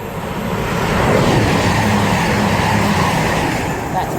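East Midlands Trains Class 222 diesel unit passing through Bedford station on the Midland Main Line, a steady loud broadband roar of engine and wheels sustained throughout.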